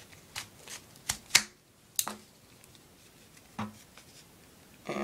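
Scissors snip through paper in a few separate sharp cuts, crisp and close, with quiet gaps between them while a paper gun for shooting ninja stars is being cut out.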